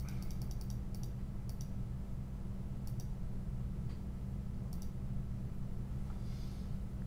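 Computer mouse clicked in quick bursts of sharp, light clicks, a few rapid taps at a time separated by pauses, over a steady low background hum.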